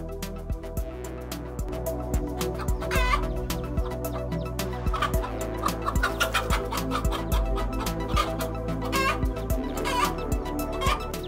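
A mother hen clucks repeatedly in short, irregular calls beside her chicks after driving off a cobra, with other fowl sounds around her and no talking.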